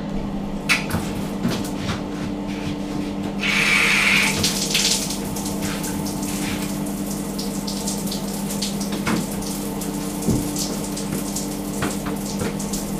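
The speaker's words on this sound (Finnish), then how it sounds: "Tuleekohan täältä lämmin vettä?" Water runs steadily from a shower tap in a train hostel room in Mossel Bay, a constant loud hiss with a brief surge of spray and a few knocks and clanks.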